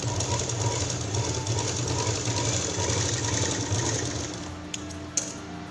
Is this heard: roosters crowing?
no